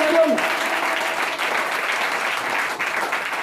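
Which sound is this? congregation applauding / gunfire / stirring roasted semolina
congregation applauding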